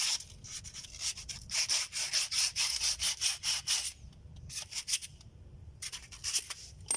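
Brake parts from a 2014 Toyota Vios are rubbed with 400 grit sandpaper in quick, rhythmic back-and-forth strokes that sound close and scratchy, followed by a short pause and a few more scattered strokes.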